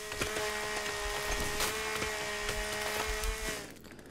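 A chainsaw cuts through wood in the video game The Forest, a sustained buzzing whine with rhythmic pulses for about three and a half seconds before it cuts off, no talking.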